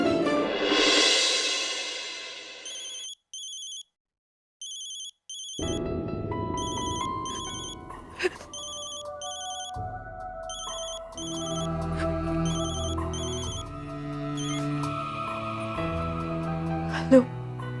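A telephone ringtone trills in short repeated electronic bursts while a call is placed on a Hindi TV drama, with music and low voices running underneath.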